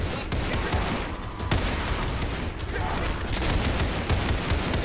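Continuous dense gunfire in Roblox Criminality infection mode, a loud unbroken barrage of overlapping shots with chaotic game noise throughout.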